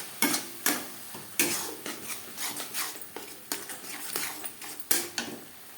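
Spices are stirred in a pan for an egg chicken tadka, with a spoon scraping and tapping against the metal in repeated uneven strokes over a faint sizzle, close up and with no voices.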